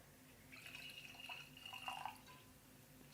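A drink poured into a glass, a steady trickling liquid stream lasting a couple of seconds, close and fairly quiet, with no talking.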